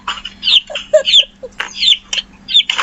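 A chicken clucks up close in a series of short, loud, uneven calls and squawks with brief gaps between them, set against a faint low hum.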